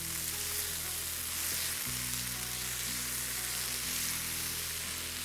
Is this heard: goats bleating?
no